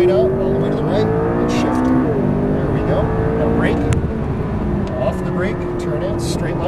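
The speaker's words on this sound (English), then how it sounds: "accelerate out, full throttle" McLaren MP4-12C engine rising in pitch as it accelerates out of a corner on a Las Vegas race track, loud and steady inside the car, with an instructor talking over it.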